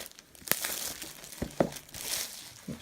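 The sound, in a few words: cellophane wrapping being cut and unwrapped from a game box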